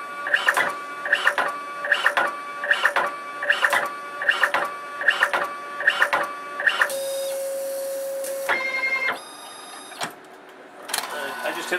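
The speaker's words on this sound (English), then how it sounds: "test print on the colored printer for you as well." A Fargo HDPii color card printer running a test print, with regular mechanical whirring and clicking cycles repeating close by, then a longer motorized whine and beeping tones as the card feeds out.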